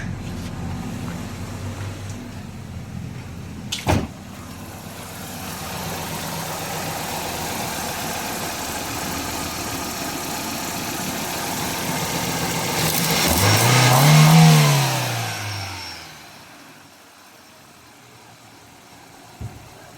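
A Toyota Corolla with a 4A-FE engine idles steadily after starting, with a sharp click early on, then a rev swells loudly and falls back to a lower, smoother idle, heard up close.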